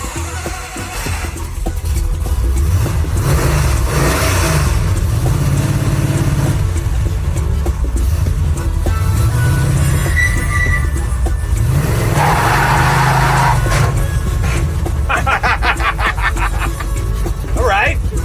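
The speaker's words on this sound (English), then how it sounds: "You just did a burnout, too." A Mazda mini-truck powered by a 455 Oldsmobile V8 roars through a burnout, with loud, close engine revving surging repeatedly and tires squealing, while people talk over it.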